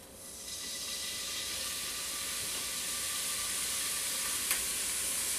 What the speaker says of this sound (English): Okay, want to put these right into our pan now.